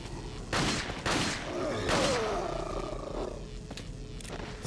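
Gunfire in Resident Evil 4 during the final boss fight against Osmund Saddler, several loud sharp shots in quick succession over a roaring creature and dense game noise.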